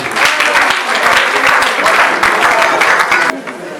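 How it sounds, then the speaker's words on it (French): A wedding audience applauds loudly for the bride's family at a religious wedding ceremony, with steady dense clapping that cuts off abruptly near the end, voices mixed in. "est-ce qu'on peut acclamer pour cette famille?"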